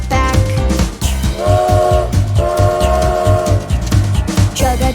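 A rhythmic chugging train effect with whistle-like tones sits inside a children's dance song, loud and steady with a regular beat, mixed with music.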